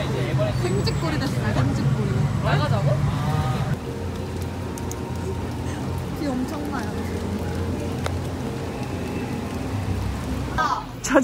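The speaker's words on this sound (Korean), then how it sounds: "비 온다." Rain falls steadily at Everland amusement park, a dense patter that carries through the whole stretch while several people chat nearby.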